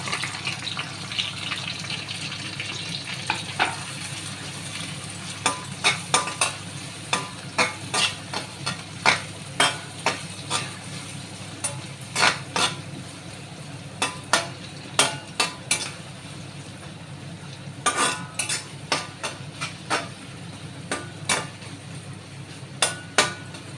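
Chopped onions and green chillies frying in a pan for a prawn and gongura dish, a continuous sizzle broken by frequent sharp spatula scrapes and taps against the pan, no talk.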